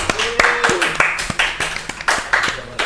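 A few people clap by hand in a podcast studio, with sharp, close, irregularly spaced claps over a couple of seconds while voices talk over them.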